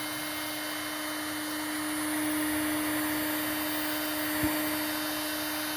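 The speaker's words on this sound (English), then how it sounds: "turn the heat gun on the highest setting" A heat gun on its highest setting, blowing steadily with a continuous airy roar and a constant tonal whine, close and unbroken throughout, with one brief click partway through.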